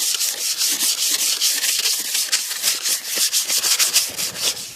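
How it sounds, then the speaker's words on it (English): Continuous abrasive rubbing of sandpaper against the body of a 1988 Cadillac DeVille, a close, steady back-and-forth scratching with dense hiss and short repeated strokes, no voices. "Take your time and sand it down smooth as you can get it, like this."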